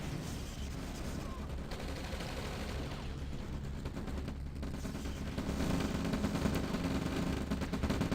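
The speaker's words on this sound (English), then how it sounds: "now we see shock troopers roaming the fields, and you can hear them" Shock troopers attack in the OpenRA (Red Alert) strategy game, a steady wash of crackling gunfire and dense battle noise that thickens toward the end, with no talk over it.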